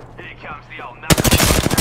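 Sudden heavy automatic gunfire erupts in a video game firefight, a loud close rattle of rapid shots that cuts in after a second of quieter game sounds and whistling tones.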